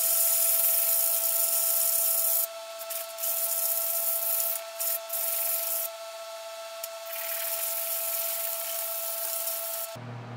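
Hand sanding of a silver and opal inlay ring made with UV resin: a steady, close abrasive rubbing that runs with a few short pauses, alone without talk, against a constant faint background hum.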